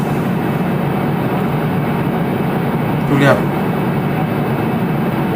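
Steady loud machinery hum fills a plastic recycling factory, a constant industrial drone with a short voice briefly heard over it.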